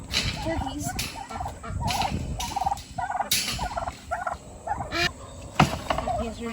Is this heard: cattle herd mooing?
no